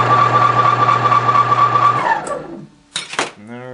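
A repaired bandsaw motor runs on a test with a steady high whine and hum, then winds down and stops near the end, followed by a brief clatter and a short voice.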